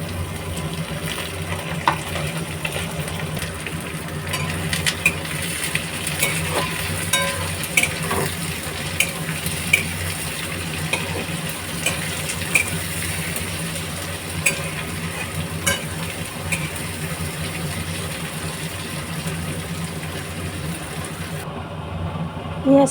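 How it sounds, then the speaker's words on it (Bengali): Chopped onion frying in hot oil in a pan for chicken kosha, a steady close sizzle with occasional stirring clicks and scrapes running throughout. "এবার এর মধ্যে পেঁয়াজ কুচোনো দিয়ে দেব।"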